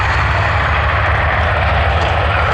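Several B-25 Mitchell bombers at the Thunder Over Michigan air show, their piston propeller engines making a loud, continuous, close roar with no voices over it.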